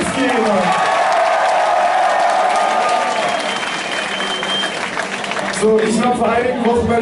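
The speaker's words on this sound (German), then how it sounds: "Applaus für euch selbst" A concert audience claps and cheers loudly and continuously, a dense wash of applause that fills the space and tapers slightly toward the end.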